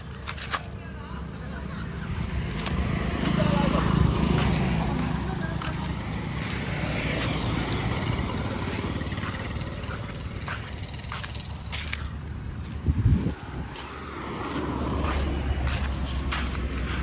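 A vehicle engine drones steadily with rushing wind while riding on a trip to cut palm fruit, a continuous low rumble with a brief bump near the end.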